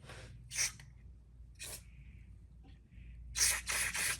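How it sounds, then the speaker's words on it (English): Short hissing bursts of cleaner sprayed into the carburetor jets of a Craftsman mower, several in a row with pauses between, close and fairly loud with no talking. "I'm going to spray out the jets on this carburetor"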